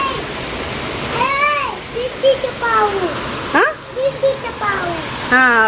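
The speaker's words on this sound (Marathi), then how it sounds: "किती पाऊस आहे" Heavy rain pours steadily outside a home in a cloudburst, a dense constant wash of noise under frequent talk from a woman and a child.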